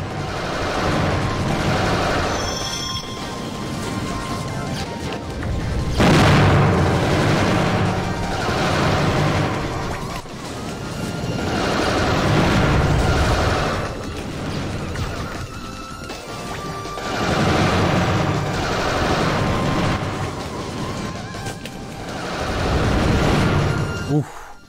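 Gunfire from the Custom Robo video game comes in heavy, crashing bursts of shots and impacts, repeating in several loud waves with short lulls between them.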